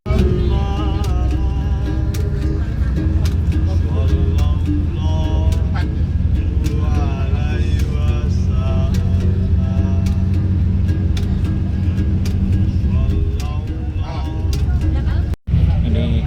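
Steady low engine rumble and road noise fill the interior of a local bus on the Banyuwangi-Jember route in Indonesia while people talk throughout, with occasional clicks and rattles.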